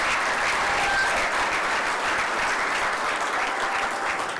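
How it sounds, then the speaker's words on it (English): Sustained audience applause at a business event on Grand Bahama, a dense, steady wash of many hands clapping at a constant loud level without a break. "Please give him once more a round of applause."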